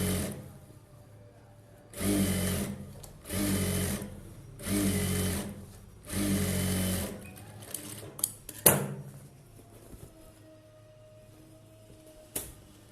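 A sewing machine stitching an Aari work blouse runs in four short bursts of rapid mechanical whirring, each about a second long with brief pauses between, followed by scattered clicks and handling knocks.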